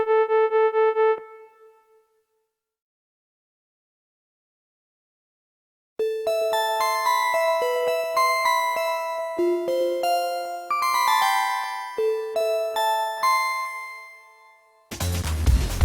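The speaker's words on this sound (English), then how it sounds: "Bell sounds are very easy to make." A Roland GAIA SH-01 synthesizer plays metallic, bell-like ring-modulated tones: one ringing note fades out, then after silence a melodic run of bright, chiming notes, ending in a short burst of noisy static.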